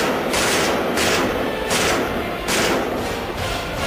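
Machine gun fire at the Line of Control in Kashmir comes as loud, sustained bursts of rapid rattling shots, a few seconds of dense gunfire separated by brief pauses.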